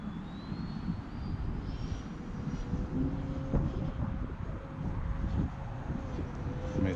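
An E-Flite Viper 70mm EDF RC jet whines through the air at a distance, its rising fan tone drifting as it rolls, over gusty wind buffeting the microphone.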